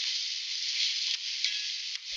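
Onion and garlic fry in olive oil in a pot for tomato sauce while a utensil stirs them, giving a steady close sizzle broken by a few soft scraping knocks.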